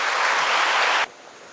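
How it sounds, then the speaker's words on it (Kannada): Big round of applause from an audience at a lecture event, loud sustained clapping that cuts off abruptly after about a second, leaving only quiet room tone. "ದೊಡ್ಡ ಚಪ್ಪಾಳೆ."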